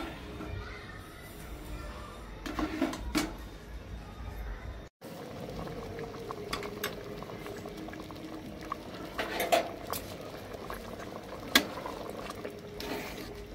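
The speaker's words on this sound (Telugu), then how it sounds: "కొంచెం ఒక 2-3 నిమిషాలు ఈ సేమియా వేసినాం కదా ఉడికించుకోవాలండి" Semiya vermicelli boiling in a pot for jaggery payasam, a soft continuous bubbling simmer with occasional spoon clinks against the vessel and a brief break partway, fairly quiet and close.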